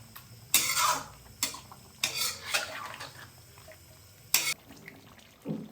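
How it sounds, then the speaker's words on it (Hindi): Chicken karahi being stirred in ghee in a wok, with a handful of sharp metallic scrapes and clanks of the utensil against the pan over a faint frying background, no talking. "घी के अंदर हम चिकन कढ़ाई को भूनेंगे 5 से 7 मिनट के लिए"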